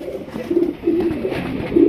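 Pigeons coo in a steady, overlapping murmur, several low throaty calls rolling close together at moderate loudness throughout, with no voices present.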